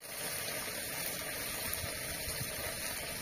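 Water pours steadily into a cooking pot in a home kitchen where mung beans and rice are being prepared, giving a continuous rushing, splashing fill that stays loud and close for the whole stretch.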